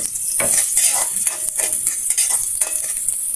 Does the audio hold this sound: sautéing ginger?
yes